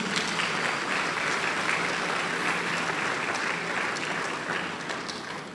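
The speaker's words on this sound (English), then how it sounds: "needs a round of applause" Sustained, even applause fills a hall at a company's 40th anniversary celebration, many hands clapping at steady volume from start to finish before a sudden loud thump at the very end.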